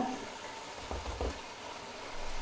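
Cumin seeds dropped into hot oil for a chicken hara masala, giving a steady frying sizzle with a couple of brief stirring bumps midway, close and moderately quiet, with no talking.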